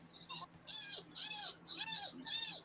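A rabbit caught by a cat squeals shrilly in five rhythmic bursts, high-pitched and distressed, each cry lasting about a third of a second.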